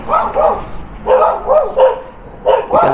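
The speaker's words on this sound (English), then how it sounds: "We got the dogs making all the noise." Dogs barking inside a renovated twin house in Ardmore, PA, with repeated loud, close bursts of barks in uneven clusters and short pauses between them.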